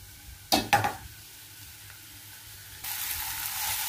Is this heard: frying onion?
yes